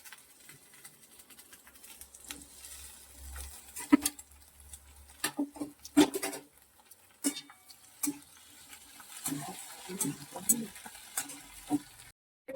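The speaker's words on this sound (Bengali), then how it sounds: "এখন কি রান্না বসিয়েছি সেটা দেখে নাও। এই যে করবো হচ্ছে ভেন্ডি আলু" Okra and potatoes fry with onion in a pan, giving a soft steady sizzle broken by repeated scraping stirs and clinks of a spatula, close and fairly quiet.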